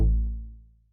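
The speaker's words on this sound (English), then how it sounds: "So it's a nice short stab note." A single short synth stab note on A2, soloed in a music workstation: a bright attack with a fast decay, fading within about a second, alone and fairly loud.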